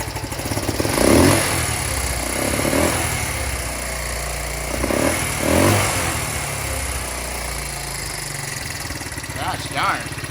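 Small single-cylinder engine of a 1974 Honda CL125s motorcycle running steadily after warming up, a continuous low hum with a couple of brief swells in revs, while someone talks over it.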